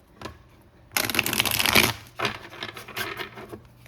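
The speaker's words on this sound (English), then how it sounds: "Let me just try doing a riffle shuffle here" A tarot card deck is riffle shuffled close up, a quick burst of flutter and slapping followed by lighter clicks as the deck is squared.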